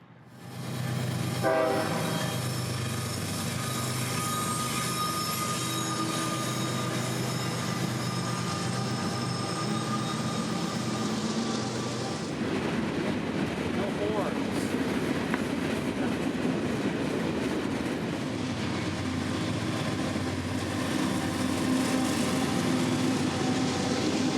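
CSX freight train 583 heading south in North Georgia, passing close and loud with a long horn blast early on, then a continuous rumble and clickety-clack of wagons rolling by with faint wheel squeal.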